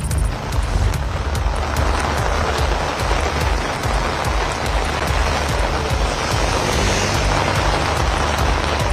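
Heavy rain pours steadily in Rameswaram, a dense, loud, continuous roar of water drumming on surfaces with no break and no voices.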